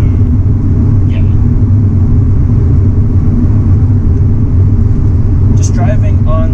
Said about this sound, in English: There is a lot of road noise that is coming on through, mainly because of the tires and the wheel setup